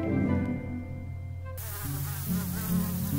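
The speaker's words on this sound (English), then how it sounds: "Good night, buzzed the mosquitoes, dancing among the stars." Insects buzz steadily and loudly in a close, continuous drone, with the whine changing character partway through, heard alone without talk.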